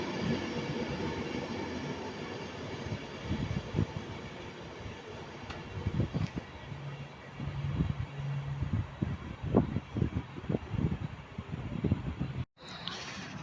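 A train pulls into a platform at Milton Keynes Central railway station, a continuous rumble of wagons and wheels with clicking and rattling over the rails and some faint squeal, steady and fairly close, with no voices.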